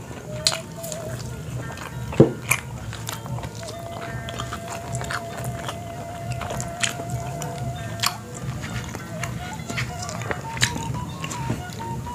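Close, soft bites and wet chewing of tofu during a mukbang meal, irregular and moderately quiet, with a few sharper crunchy clicks.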